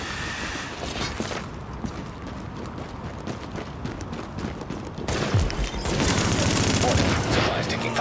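Gunfire in The Division video game, sustained rapid rattling shots that run continuously and grow louder and denser halfway through.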